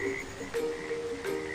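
Cartoon frogs by a pond croak in a repeated rhythmic pattern of loud, close, throaty calls, several in quick succession over a busy background.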